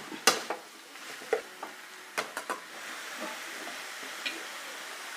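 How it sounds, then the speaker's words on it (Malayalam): A bean and cabbage stir-fry is stirred and mixed in a pan: scattered scraping and tapping strokes over a faint sizzle, sparse and close, without speech. "കുറച്ച് ഉപ്പും കൂടെ കൂടെ ഇട്ടിട്ടൊന്ന് നന്നായിട്ട് മിക്സ് ചെയ്ത് വയ്ക്കണം"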